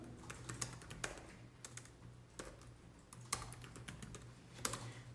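Keys clatter on a computer keyboard as a restaurant order comment is typed, with quick irregular clicks and several sharper, louder keystrokes over a steady low hum, no voices.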